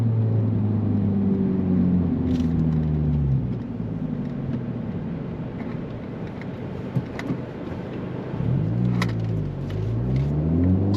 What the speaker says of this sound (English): it pulls all the way to redline so nicely